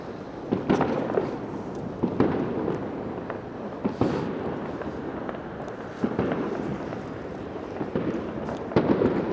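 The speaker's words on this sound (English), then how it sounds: "Look at that, that's the Central London fireworks." New Year fireworks over central London heard from a distance, a continuous crackle with repeated dull booms and pops scattered throughout, fairly faint and alone.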